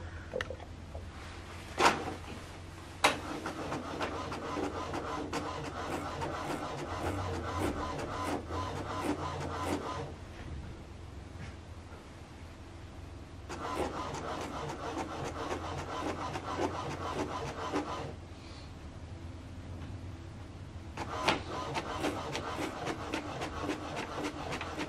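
An HP DeskJet 3775e inkjet printer prints a document, its carriage sweeping back and forth in repeated mechanical passes with short pauses between bursts, close and fairly loud with no talk.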